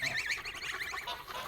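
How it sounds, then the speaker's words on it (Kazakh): Geese with their goslings honk in a rural farmyard, a faint run of repeated nasal calls heard from some distance with no talking. "Мынау қаздар."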